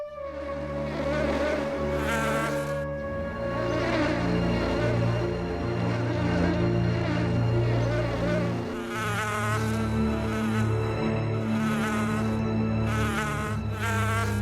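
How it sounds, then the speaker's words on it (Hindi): A cartoon bee buzzes loudly and steadily in close range, the whining drone wavering in pitch and swelling in bursts, with no speech over it. "भाई मधुमक्खी ने मुझे काट लिया।"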